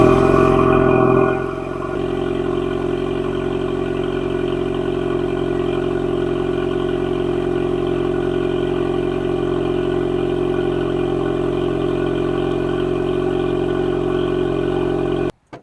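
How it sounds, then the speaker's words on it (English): Factory exhaust of a 2025 Ford Mustang EcoBoost four-cylinder after remote start: a brief louder start-up flare, then a steady low idle drone heard from behind the car, with no talking. "I want to show you guys the remote start and how the exhaust sounds back here from the factory"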